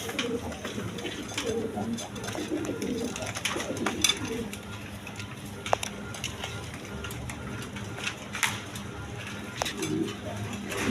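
Danish pigeons, including running breeding pairs, coo softly and repeatedly in a crowded pigeon collection. Low, steady cooing continues throughout, with occasional clinks and light background clatter.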